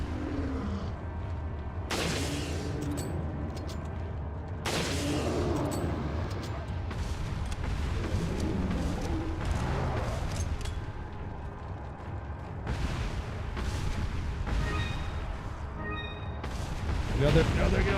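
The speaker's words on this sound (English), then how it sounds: "Actually gonna shoot it this time with my gun." Gunshots in the survival horror game Resident Evil 4, several sharp broadband bangs spread across the stretch over game ambience, with a voice talking throughout.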